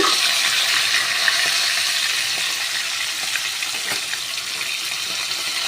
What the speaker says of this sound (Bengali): মাছগুলোকে ছেড়ে দিচ্ছি।